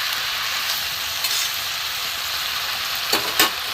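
Prawn and pumpkin curry sizzles and fries in a pan under a steady hiss, with a few short scraping stir strokes near the end.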